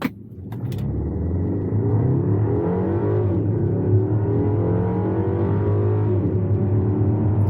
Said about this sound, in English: We're going to turn around and do another one. Alright, and just smash the gas.